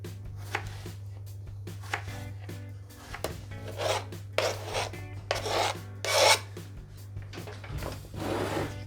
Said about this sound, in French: Donc je commence par les tailler en tranches, puis ensuite dans l'autre sens.